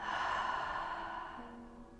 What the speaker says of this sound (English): Take a deep inhale. Cleansing exhale through the mouth.